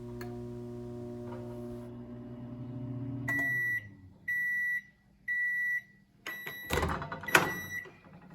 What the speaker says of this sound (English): I put them into the microwave oven and I set it for